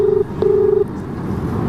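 Telephone keypad tones dialing a call: two clear, loud beeps, one short and one longer, followed by quiet background noise, with no talking.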